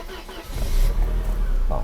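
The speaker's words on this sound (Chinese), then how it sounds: "好，来大哥来做个冷车启动" A Mercedes W201 2.5-16 with a repaired fuel distributor and a weak starter motor is cold started below 40 degrees with the air conditioning on. The engine cranks, then catches and revs up close by while someone talks.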